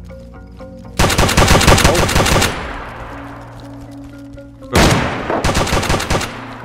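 Automatic gunfire in the video game DayZ, two loud sustained bursts of rapid shots with a ringing decay between them, close and dominant, with a brief spoken word.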